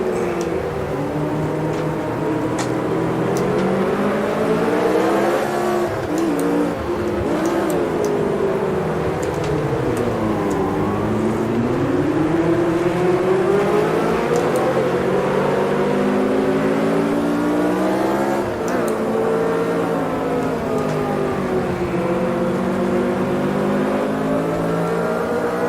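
Lotus 49C race car engine in a racing sim video game at Jerez, revving and accelerating loudly through the gears with repeated rises and dips in pitch, sustained and close throughout.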